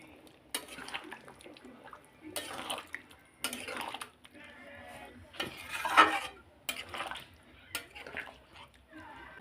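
A spoon scrapes and clinks against a pan while garam masala and coriander leaves are stirred into a mutton curry, in irregular bursts of metallic stirring with quieter gaps between.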